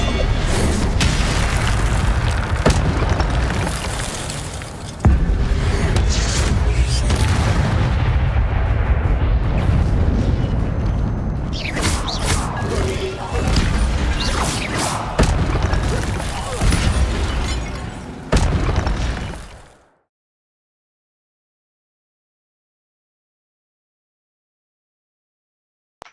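Spells explode in the video game Hogwarts Legacy during a fight with guards, with loud booms and shattering blasts in a dense barrage for about twenty seconds, then sudden silence.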